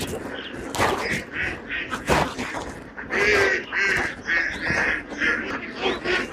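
Many ducks quack repeatedly at a large pond-side duck farm, overlapping nasal calls in rhythmic bursts close by, over a busy outdoor background.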